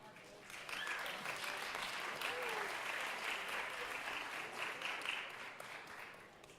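An audience applauds dancers from five high schools at a Latin dance festival, the clapping swelling in after a brief pause and holding as a dense, steady roar until the end, with a faint voice underneath.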